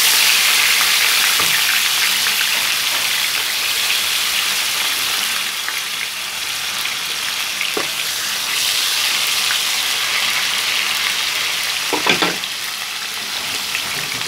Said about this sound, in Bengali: তেল গরম হয়ে গেছে। এবার আমি আলুগুলো দিয়ে দিচ্ছি।